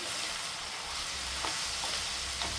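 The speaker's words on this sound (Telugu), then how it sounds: "ఇప్పుడైతే ఒకసారి కలిపేసుకుందాం మొత్తం మంచిగా లేదంటే అడుగులు ఉండి మాడిపోతాయి" Food stirred in a hot pan on the stove to keep it from sticking and burning: steady close sizzle and frying hiss throughout, with faint scraping strokes of a spoon against the pan.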